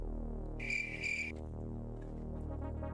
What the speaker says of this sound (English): Had the sound queued up. The crickets.